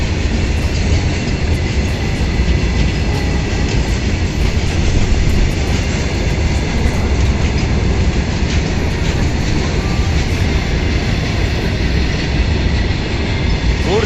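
A goods train thunders through Karimnagar railway station at night at high speed, a loud continuous roar of wagons with rattling wheel clatter and occasional squeals, close by throughout with no talking.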